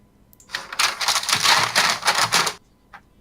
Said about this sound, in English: I'm actually just folding a paper near the mic